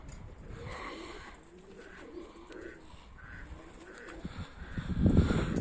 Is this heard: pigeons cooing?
yes